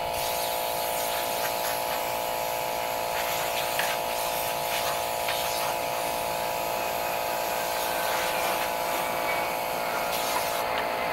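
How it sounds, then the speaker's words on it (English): A very loud air compressor runs steadily in a workshop, supplying compressed air for blowing dust off an antique gossip bench before priming; a continuous harsh mechanical drone with a constant hum fills the whole stretch without talk. "By the way, we have the world's loudest compressor."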